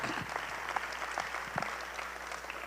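Audience applause for three associate provosts at a university academic affairs fall kick-off meeting, a steady patter of clapping that holds through the short moment at moderate level.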